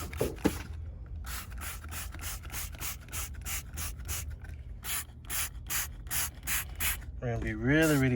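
Stain remover sprayed from a spray bottle in a quick series of sharp hissing bursts, close and fairly loud, with a voice speaking near the end.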